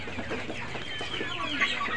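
Chickens cluck steadily on a poultry farm, several birds close by making overlapping, continuous clucks with no talking.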